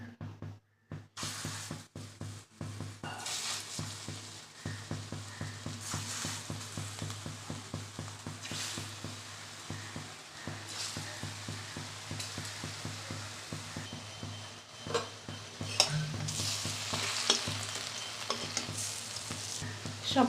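Pea lentil fritters fry steadily in hot oil, giving a continuous close sizzle with a soft crackling texture that lasts the whole time.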